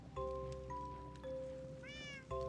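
A cat meows in the video game Minecraft, several short tonal meows in a row, clear and close against a faint background.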